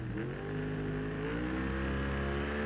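Racing motorcycle engines at the start of an AFM Formula Pacific road race hold a steady, sustained rev together, a dense layered engine drone that swells slightly louder partway through.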